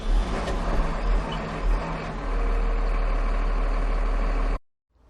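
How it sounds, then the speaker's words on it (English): A 2012 Massey Ferguson 7624 tractor with a Dyna 6 gearbox idles nearby, a steady, loud, low diesel rumble that holds constant before cutting off abruptly near the end. "And it starts and runs well."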